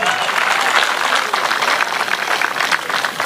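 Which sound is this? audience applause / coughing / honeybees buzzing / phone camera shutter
audience applause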